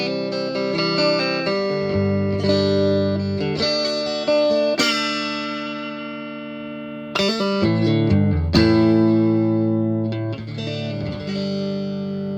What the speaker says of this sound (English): right now we're going clean on neck pickup